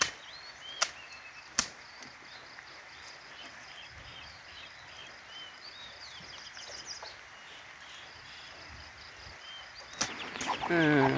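Soft chirps and clucks from chicks and hens rise faintly over a quiet outdoor background, broken by a few sharp knocks and a louder burst near the end.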